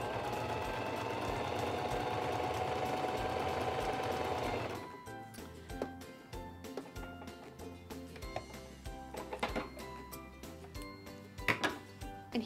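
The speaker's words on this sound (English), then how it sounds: "I'm going to put my fabric under the presser foot, lower the presser foot, and sew" A Singer 2273 Esteem II sewing machine runs a zigzag stitch steadily for about five seconds up close, then stops, followed by soft handling clicks and rustles of fabric.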